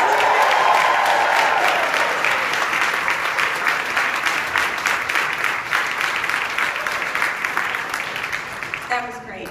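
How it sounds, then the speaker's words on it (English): Large conference audience at a hospital awards keynote bursting into loud, sustained applause with whoops and cheers, dense clapping that slowly tapers off over several seconds. "Can I have one more, one of your really loud applauses with the woo-hoo in it,"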